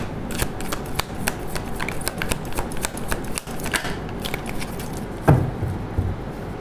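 Tarot cards shuffled and drawn by hand from a deck, a steady run of soft, close papery ticks and flicks, with one louder snap or tap near the end; no talking.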